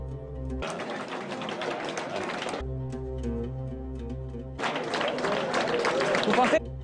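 Two bursts of crowd applause, each a few seconds long, separated and surrounded by music with a steady tonal background, the second burst louder and rising.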